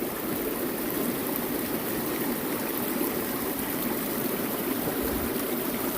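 Stream water rushes steadily and loudly throughout while gold is being panned, forming a continuous broadband flow with no distinct splashes or voices.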